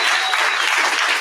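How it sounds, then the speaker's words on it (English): A round of applause from a gathered audience at a live preparty event, dense steady clapping throughout, close and loud with no talking. "let's do a round of applause for David here."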